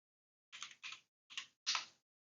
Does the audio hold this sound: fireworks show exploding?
no